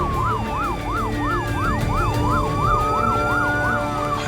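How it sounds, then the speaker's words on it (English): An ambulance siren on an emergency run wails in a fast, repeating rising-and-falling pattern, loud and continuous over heavy road and engine rumble at high speed. "We're on lights and sirens going 130 and he's weaving past us."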